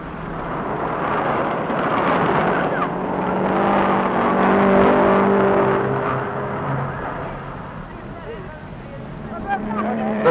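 Fiat 1100 and Peugeot cars racing on ice, a continuous droning engine note that swells and fades as they pass, heard under a narrator's voice.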